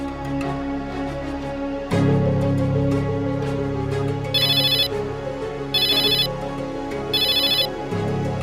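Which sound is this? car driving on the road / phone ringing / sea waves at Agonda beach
phone ringing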